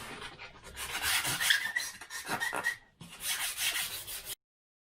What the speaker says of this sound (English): I'll just sand these edges